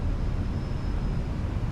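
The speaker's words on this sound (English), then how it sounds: "You can hear the engines working a little bit." The jet engines of an Airbus A319 in Microsoft Flight Simulator hum on a landing approach into Stansted, giving a steady, loud, low rumbling roar with a faint high whine that holds throughout without speech.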